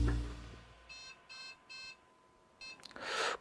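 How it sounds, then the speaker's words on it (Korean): Three evenly spaced electronic motherboard buzzer beeps from a PC with no memory installed, then a pause and a fourth beep, clear and close, followed by a brief burst of rustling noise. "메모리 카드가 없으니까 당연히 부저음 울린다"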